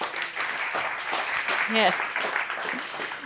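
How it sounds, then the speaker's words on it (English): An audience claps steadily for a panelist at an AI panel discussion, a dense patter of applause with a voice speaking briefly over it. "A big applause"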